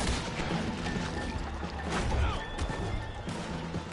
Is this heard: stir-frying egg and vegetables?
no